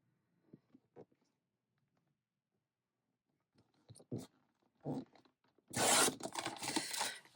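Paper tearing or cutting as the top is taken off a craft page for a December Daily scrapbook, a few soft rustles and scrapes building to a loud, dense burst of ripping near the end.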